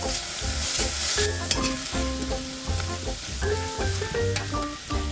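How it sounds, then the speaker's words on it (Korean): Potato and onion slices sauté in butter over low heat, giving a steady close sizzle with a bright hiss, while a spatula stirs the pan in repeated rhythmic scrapes and taps. "양파가 투명해지면 감자 넣고 볶아주세요."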